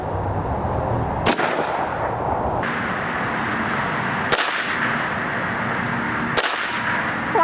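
An SKS rifle fires at night: three sharp, loud reports spaced a few seconds apart, each a crisp crack over steady background noise.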